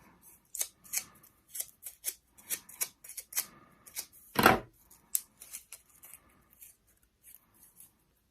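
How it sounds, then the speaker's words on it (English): Scissors drawn along paper to curl it for a pine cone craft make a series of quick, close snipping and scraping strokes, with one louder rasp midway, then fainter ticks. "as you are using the back edge of your scissors,"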